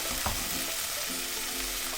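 Rice tossed with vegetables sizzles in a hot pan for fried rice, a close, continuous frying hiss with a quick stirring scrape near the start and a low steady hum underneath.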